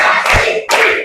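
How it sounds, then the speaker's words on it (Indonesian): Children clap in a counted classroom rhythm, producing two sharp, loud claps about half a second apart, each ringing briefly before fading. "Tepuk 1, tepuk 2, tepuk 3, tepuk 4, tepuk 5"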